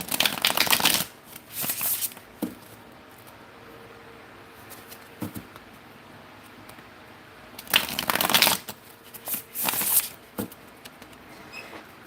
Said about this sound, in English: I love the way this one shuffles.